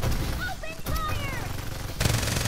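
Gunfire in Farlight 84 crackles in quick bursts under game voice lines, with a sharper, louder volley breaking in near the end.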